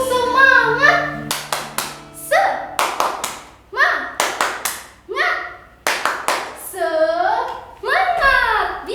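Children at an online children's worship service chant and clap a rhythmic cheer, bursts of sharp claps alternating with young voices in a call-and-response pattern, close and loud.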